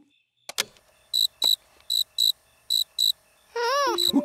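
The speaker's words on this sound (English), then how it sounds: "Oh, that's a nice recording of a cricket." A cricket chirps in short, evenly spaced bursts, loud and close, with a few sharp clicks before and a rising whistling tone near the end in a cartoon scene.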